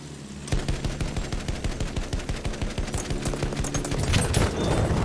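Rapid, steady anti-aircraft gunfire in Battlefield 1, set in the Sinai desert, pounds out a fast rhythmic stream of loud close bursts that runs almost the whole time and builds slightly denser near the end.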